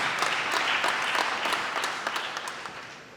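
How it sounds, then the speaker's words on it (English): Applause rolls through an audience at a university guild swearing-in ceremony, a dense patter of many hands with a few sharper claps standing out, gradually fading toward the end. "A big round of applause once again."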